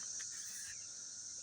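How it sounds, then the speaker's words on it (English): Cicadas buzzing in a steady, unbroken high drone that holds through the whole moment at moderate loudness, with no talking over it. "So that's a cicada. So that's what you're hearing right now."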